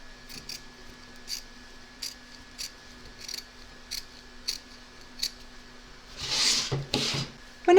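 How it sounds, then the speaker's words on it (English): Scissors trimming excess fabric while sewing a bag, a series of small, sparse snips spread across a quiet room, close but soft, with a louder rustle of handling near the end. "We're now going to trim up a little bit of the excess along here and here"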